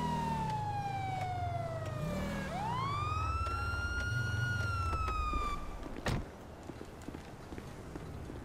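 A police car siren in the video game GTA Online, wailing with a falling then rising tone before cutting off, followed by a sharp impact and quieter game traffic noise.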